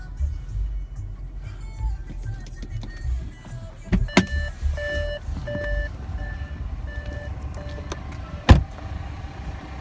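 A power sunroof motor on a 2016 Audi A6 Quattro with a supercharged V6 whirs steadily for several seconds inside the car, with a few soft clicks and a sharp knock near the end.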